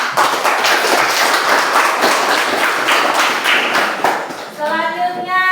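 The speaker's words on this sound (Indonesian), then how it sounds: "Berikan tepuk tangan" A classroom of students clapping, brisk and loud overlapping claps close by for about four seconds, then fading as voices and a ringing tone take over.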